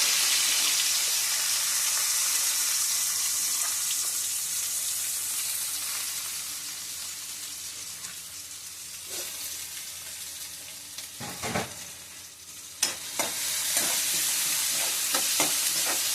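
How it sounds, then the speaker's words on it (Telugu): Green chillies and onions drop into hot oil for a chicken curry. A loud, bright sizzle starts close up and slowly eases, then a few scrapes and clanks of stirring follow near the end. No voices are heard. "నూనె అయితే వేడెక్కింది. ముందుగా పచ్చిమిరపకాయలు, తర్వాత ఉల్లిపాయలు"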